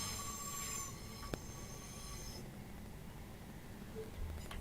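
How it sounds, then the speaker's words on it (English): Class 377 electric trains passing on the Midland Main Line in a train simulator game, heard as a steady low rumble of wheels with a thin high whine fading away, a single sharp click partway through. "Great seeing 377s come through here"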